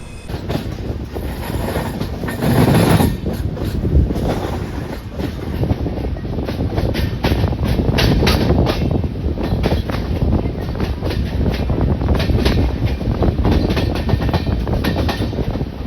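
The Secunderabad-Guntur Intercity SF Express runs at speed through a junction without stopping, giving a steady loud rumble with rhythmic clickety-clack of wheels over rail joints and wind buffeting throughout.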